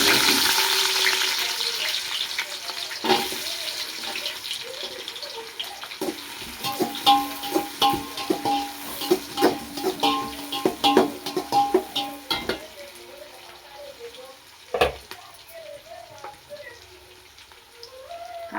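A quarter kilo of large onions frying for Tamil Nadu village-style chicken biryani, a steady hiss under a busy middle stretch of spoon scrapes and clatters against the pan, then a settled sizzle with one sharp knock near the end.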